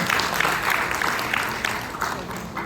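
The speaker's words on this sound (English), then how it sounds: "Let's give him a big round of applause." An audience at a hotel event in Cebu claps in a steady burst of applause for just under three seconds, moderately loud and continuous with no voices above it.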